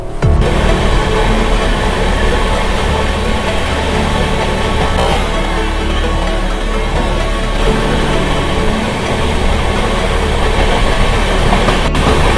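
The Darjeeling Mail, a festival special running from Sealdah to NJP, rolls steadily past a first AC coupe interior, giving a loud constant rumble with rhythmic wheel clatter throughout.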